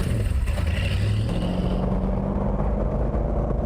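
A classic petrol car's engine rumbles loudly and steadily, its revs rising and shifting pitch as it runs, heard up close and alone.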